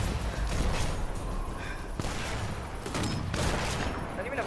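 Gunfire from the Sniper Elite video game: dense, continuous battle noise with repeated sharp shots and thuds, busy and loud throughout, with a voice occasionally cutting in.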